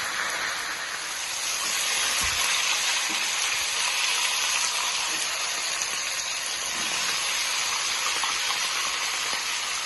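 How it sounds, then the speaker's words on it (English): Steady, loud sizzling of beef searing in a hot pot, a continuous crackling hiss with small pops throughout. "See how beautiful the sizzling sound is."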